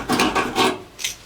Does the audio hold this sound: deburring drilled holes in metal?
yes